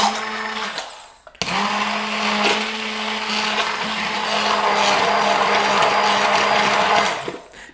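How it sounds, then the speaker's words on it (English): A handheld electric mixer whirs steadily while mixing eggs in a kitchen, switching on abruptly after a short pause and running at a loud, even high-pitched drone before cutting off. "I'm just using my handheld mixer today instead of my blender."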